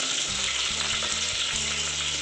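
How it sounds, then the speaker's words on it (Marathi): Curry leaves frying in oil in a pan, a loud, continuous crackling sizzle that stays close and steady, with a low motor-like hum starting and stopping beneath it. "त्याला फ्राय करते"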